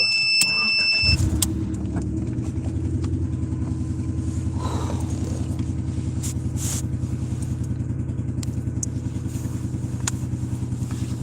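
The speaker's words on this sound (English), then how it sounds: "I'm gonna charge this up a little bit by turning on my car." A car engine cranks and starts, then settles into a steady, close idle that runs unbroken for the rest of the stretch, with a faint rattle riding on top.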